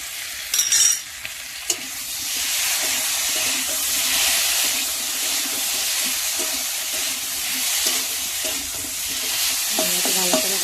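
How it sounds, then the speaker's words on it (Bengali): A ginger, cumin and chilli paste is sautéed in a village kitchen pan, giving a steady loud sizzle and hiss with occasional scraping stir strokes and a few clinks near the start, with no talking. "ভালো করে কষাবো।"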